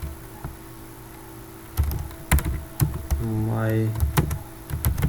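Computer keyboard keys clack as Python code is typed, with bursts of close keystrokes in an irregular rhythm while a voice talks over them.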